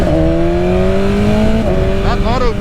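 A BMW S1000RR sport motorcycle accelerates hard, its engine note climbing steadily before a quick-shifter upshift cuts in and the revs climb again, loud and close with wind noise throughout.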